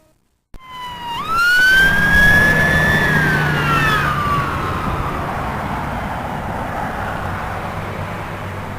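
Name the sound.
ambulance siren passing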